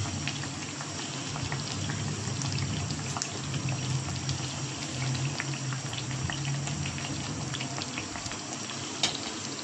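Eggplant (brinjal) fritters deep frying in hot oil, a steady close bubbling and sizzling hiss that runs continuously and evenly throughout, with no talking.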